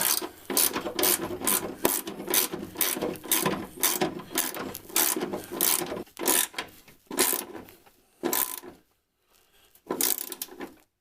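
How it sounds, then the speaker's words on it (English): A hand ratchet tightens a running board bracket bolt on a Chevy 2500HD, loud close bursts of rapid clicking in repeated strokes, pausing briefly near the end before one more run, with no talk. "Then tighten up the back bolt."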